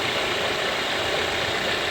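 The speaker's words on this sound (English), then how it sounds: "The car is just idling, and as you can see, that's the Serpentine Belt." A car engine idles steadily with its serpentine belt running after a power steering pump replacement, giving an even, continuous mechanical hum close by with no breaks.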